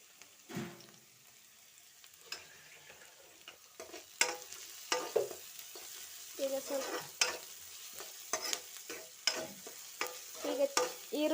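Onions frying in a pan make a soft, steady sizzle, with a spoon scraping and stirring in regular strokes that grow more frequent and louder partway through.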